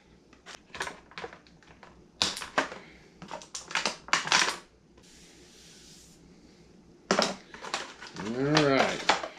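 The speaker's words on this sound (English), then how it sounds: "So let's get him cut out. Turn him over. Cut these ties." Plastic ties being cut and pulled from a toy wrestling figure's packaging: close, sharp snips, crinkles and rustling plastic in short clusters, with a quieter stretch midway and a louder scrape near the end.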